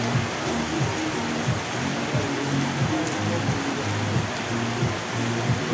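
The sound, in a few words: rain in Koktebel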